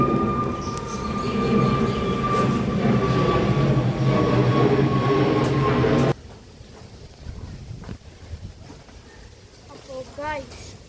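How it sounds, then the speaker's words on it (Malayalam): A train at the Veli Tourist Village rumbles past loudly and steadily for about six seconds, then cuts off abruptly, followed by quieter surroundings and people talking. "ഇതാണ് നമ്മുടെ എൻ്റെ ഫേവറേറ്റ് സ്ഥലം, ട്രെയിൻ."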